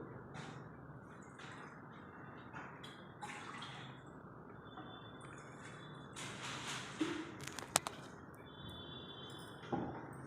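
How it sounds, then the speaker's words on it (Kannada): Water, about three cups, is poured into an AMC cookware vessel, a soft, quiet splashing and trickling with a few faint drips and clinks toward the end. "ಇದರಲ್ಲಿ 3 ಕಪ್ ಮೆಸರ್ಮೆಂಟು ನಾನು ನೀರು ಹಾಕ್ತಾಯಿದ್ದೀನಿ."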